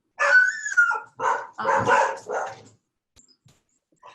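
A dog barks close and loud in a short run of about five sharp barks, followed by near silence with a couple of faint ticks.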